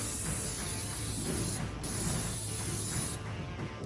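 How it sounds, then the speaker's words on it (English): A continuous hissing spray from a cooking oil aerosol can onto a grill heated to 500 degrees, close and steady, with a brief break partway through and faint mechanical rattling underneath. "spray the grill with any oil spray"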